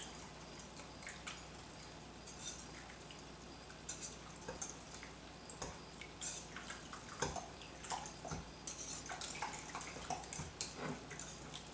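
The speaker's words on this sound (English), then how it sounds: "I like using a whisk for this because I feel like it mixes it up" A wire whisk beats a wet crockpot meat mixture in a bowl, giving quick irregular clicks and soft liquid slaps that build into a busy, moderately faint patter.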